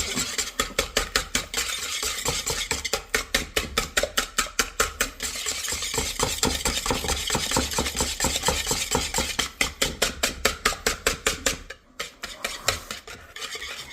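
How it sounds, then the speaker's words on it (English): Egg and sugar whisked together in a bowl produce a fast, regular rhythm of wire strokes, loud and close, pausing briefly near the end before resuming. "Then I'm gonna whisk it together so it mixes."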